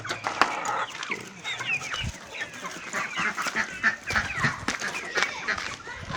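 Village poultry including ducks, geese and chickens make repeated clucks, honks and quacks close by in an uneven, busy chorus, with a voice talking faintly underneath.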